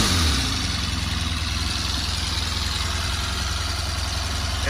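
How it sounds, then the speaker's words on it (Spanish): A Honda RC30 VFR750R motorcycle engine runs steadily at idle with a constant mechanical whine and gear-driven chatter over a low, even drone. "Este sonido es característico de la moto por el engranaje"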